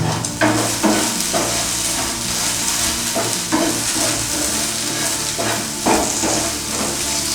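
Okra frying in a pan and being stirred, a constant loud sizzle broken by repeated scraping strokes of a spoon against the pan at a steady rhythm.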